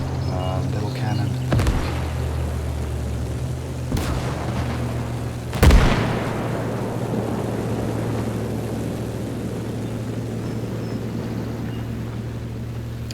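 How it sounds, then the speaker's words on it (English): Field guns fire in the Gates of Hell strategy game, with three heavy booms spread over a steady rumbling battlefield background; the last boom is the loudest and rolls off slowly. "They're getting hammered by our field guns."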